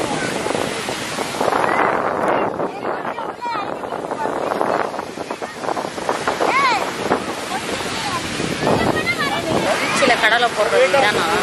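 Ocean surf washing in continuously on a crowded Sunday beach under strong wind buffeting the microphone, with a crowd of voices chattering nearby.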